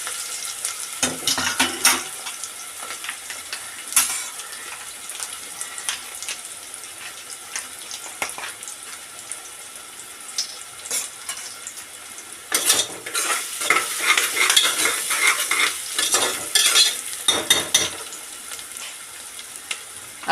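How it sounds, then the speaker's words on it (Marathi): Onions sauté in a pan for a green pea rice dish, a continuous sizzle with repeated clattering stirs and scrapes, busier and louder toward the end, with no talking. "कांदा परतूया। एक 2 मिनटं कांदा परतल्या"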